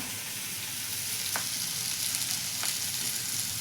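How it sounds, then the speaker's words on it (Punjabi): Bitter gourd peels fry gently in a pan over medium heat, giving a soft, even sizzle throughout with two brief light clinks of a utensil, no voices. "ਕਰੇਲੇ ਦੇ ਛਿਲਕਿਆਂ ਦੇ ਆਪਾਂ ਮੀਡੀਅਮ ਆਂਚ ਇਹਨੂੰ ਪਕਾਣੇ ਆ"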